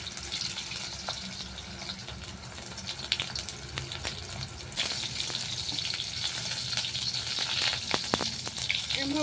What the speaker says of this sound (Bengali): এরকম উল্টো পাল্টে ভেজে নেবো।